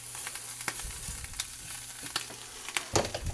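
Food sizzles steadily in a frying pan while browning for an omelette, a close crackling hiss with scattered louder pops and no talking.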